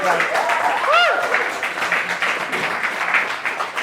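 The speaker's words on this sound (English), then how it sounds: "Let's give a round of applause to Mary." Steady applause from a crowd fills the whole stretch, with a brief whistle near the start.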